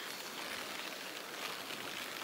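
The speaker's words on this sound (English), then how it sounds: "it's now chucking it down with rain" Heavy rain drums steadily outside a tent while camping on the Haute Route Pyrenees, a dense continuous hiss with no voices.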